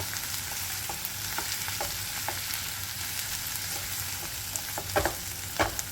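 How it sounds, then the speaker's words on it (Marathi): Chopped onion and green chillies sauté in a pan with a constant close sizzle, while a spoon stirs and scrapes in repeated short strokes, a couple of them sharper and louder near the end. "अजून थोडा वेळ आपल्याला कांदा परतवायचा आहे"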